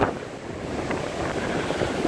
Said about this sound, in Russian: очень сильный боковой ветер и волны просто сносят